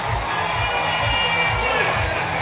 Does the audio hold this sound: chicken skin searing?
no